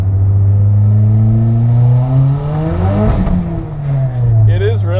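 A small pickup truck fitted with a turbo Eclipse engine accelerating hard, a loud close engine note climbing in pitch, then easing off and building again, with some rattling near the end.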